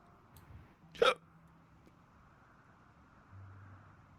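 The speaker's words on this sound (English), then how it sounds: "I'm having a hiccup again." A single sharp hiccup sounds close and clear during quiet gameplay of Final Fantasy 14 Endwalker, standing alone above a low background hum.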